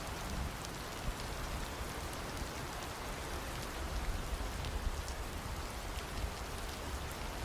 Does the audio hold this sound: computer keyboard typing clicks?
no